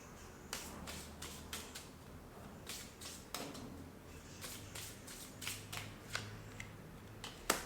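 Tarot cards are shuffled and drawn, giving a faint, close series of crisp flicks and soft riffling snaps over low background hiss, with no talking.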